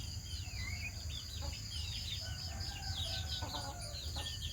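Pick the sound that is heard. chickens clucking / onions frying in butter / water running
chickens clucking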